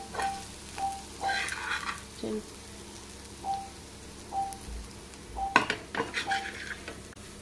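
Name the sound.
boti fry sizzling and being stirred in a pan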